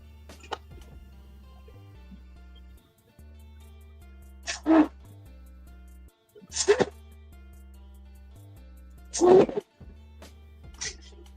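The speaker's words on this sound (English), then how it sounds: "Just trying to blow the water out of the pivot." Short, forceful puffs of breath blow water out of a folding knife's pivot: four loud sputtering blasts spaced a couple of seconds apart, over a steady low background hum.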